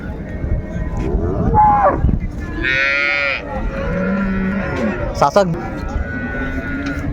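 Several dairy cows and calves moo at a cattle market in Raniganj, Dinajpur, long drawn-out lows rising over a noisy market yard, with people talking in the background between the calls.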